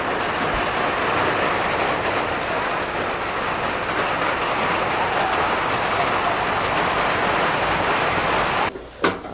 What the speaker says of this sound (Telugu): వర్షం ఎక్కువైంది ఇప్పుడు